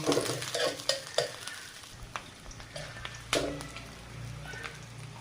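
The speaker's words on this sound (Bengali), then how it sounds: "কাঁচা ঝাল ভেজে নেব।" Green chillies with chopped onion frying in a pan for a fish and cauliflower curry, a steady sizzle broken by repeated scraping stirs from a spatula, close and fairly loud with no voices.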